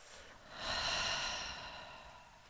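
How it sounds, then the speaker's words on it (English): A slow, soft exhale through the mouth during a guided breathing exercise, a single airy breath that swells and gradually trails off, close and quiet with no talking over it. "and release it through the mouth."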